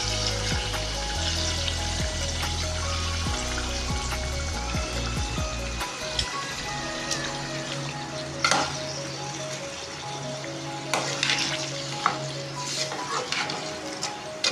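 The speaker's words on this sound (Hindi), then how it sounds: "अब हम इसमें गोश्त डालेंगे।" Meat drops into garlic and ginger frying in a pot for a restaurant-style paya, and the oil sizzles loudly and steadily. Sharp crackles and stirring clatters come through, with no talk.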